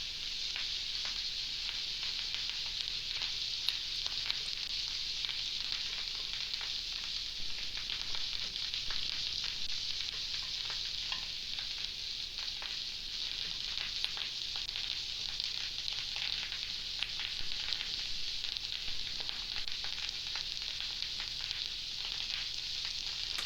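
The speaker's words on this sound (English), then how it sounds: "Put the Kathuru Moringa leaves into the mixture and stir well." Kathuru moringa leaves are stirred into a coconut sambol mixture in a Sri Lankan village kitchen, a steady soft sizzle-like rustle running evenly throughout with faint scraping.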